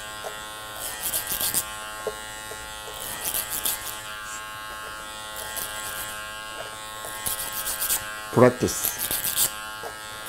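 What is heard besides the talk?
electric hair clipper cutting hair over a comb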